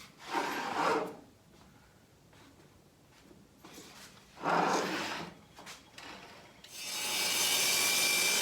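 Oak table legs clamped together and cut to length in one pass, a close rough sawing and rubbing noise in uneven bursts, with a steadier hiss of a dust collector rising at the end; nobody speaks.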